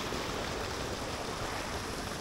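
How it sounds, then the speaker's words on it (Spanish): A small river flows through forest along a trail-running course, heard as a steady, close wash of running water with no voices. "Miren, pequeño río."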